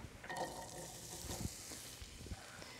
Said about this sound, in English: You want to hear that nice sizzle when you throw something in the pan.